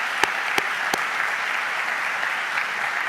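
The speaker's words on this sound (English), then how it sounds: "we got Mike Seelig, Paige Thurman, the catering staff, servers. Let's give them a warm round of applause." A room at a weekly club meeting gives the catering staff and servers a warm round of applause: a steady, even patter of many hands, with a few sharp nearby claps standing out early on.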